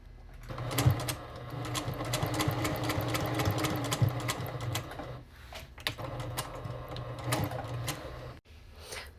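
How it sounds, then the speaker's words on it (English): A sewing machine stitches both sides of a flap pocket in a steady, close whirring run with a brief pause near the end, no talking. "I'm going to sew up one side and the other side."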